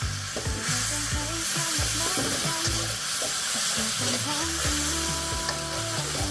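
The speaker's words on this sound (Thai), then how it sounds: "แล้วก็เริ่มผัดทุกอย่างให้เข้ากันเลยครับ" Seafood stir-fried in a pan with sugar and chili sauce over lowered heat: continuous loud sizzling with repeated scraping and tossing strokes of the spatula, close up.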